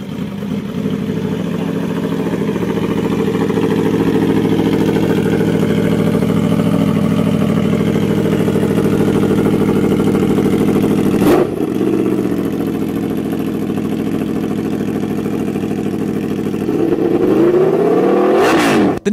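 An Aprilia Tuono naked motorcycle engine idles loudly and close, then is blipped in two sharp revs that rise and fall, with crackles from the exhaust.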